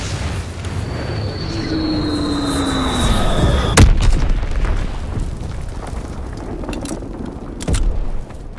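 Bombs going off in a video game, with a falling whistle leading into one sharp, heavy blast, a rumbling tail, and then a second smaller burst a few seconds later.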